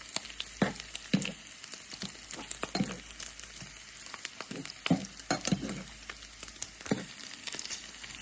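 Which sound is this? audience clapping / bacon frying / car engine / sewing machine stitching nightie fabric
bacon frying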